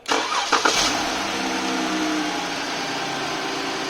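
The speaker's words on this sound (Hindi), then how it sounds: "अगर हम अब गाड़ी स्टार्ट करें तो ये 0 हो जाएगा" A car engine cranks with a couple of quick starter pulses, catches, and settles into a steady, loud idle.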